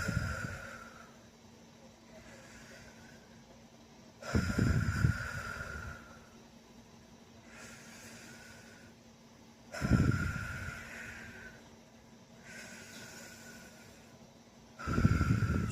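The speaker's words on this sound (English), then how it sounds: "Breathe in and out" Slow, deep breaths taken in and out, a person breathing deliberately in a calm, steady rhythm; three loud, close inhale-exhale surges roughly every five seconds with quieter airy breath between, no talking.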